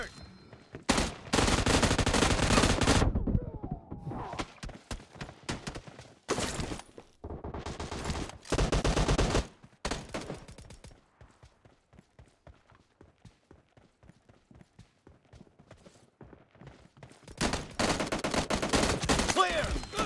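Shotgun blasts from a PUBG Mobile team deathmatch in the library map fire in dense, loud bursts near the start and the end, with scattered sharper shots and quieter movement between.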